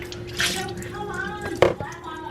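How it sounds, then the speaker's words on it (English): Liquid for kinilaw is poured through a non-metal strainer in a kitchen, giving brief splashing and dripping bursts alongside people talking nearby. "Now, do you have a strainer? Yeah. The whole thing in. Strain that."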